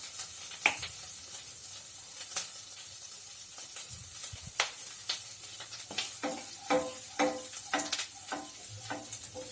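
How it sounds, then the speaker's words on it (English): Garlic paste and chili flakes sizzle in a hot pan with a steady frying hiss, broken by repeated sharp scraping clicks of stirring spaced through the whole stretch. "So let our garlic paste cook properly. Now I am adding some of the chili flakes to it."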